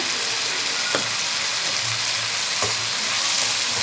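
Ivy gourd stir-fry with chili powder hissing in a pan, a loud steady sizzle broken by a couple of brief scrapes as it is stirred, with no talking.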